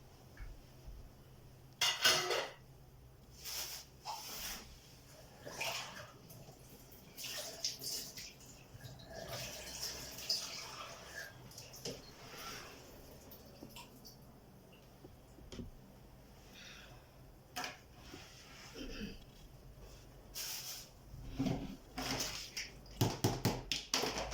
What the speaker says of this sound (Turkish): Şöyle bir bulaşık yıkayalım.